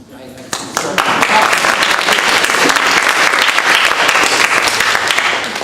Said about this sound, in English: You don't have to hold your applause.